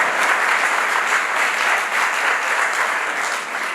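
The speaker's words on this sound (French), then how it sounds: "Applaudissez un peu." Audience applause at a Father's Day celebration in Cocody: a dense, steady wash of clapping from a large crowd, sustained at an even level throughout with no gaps.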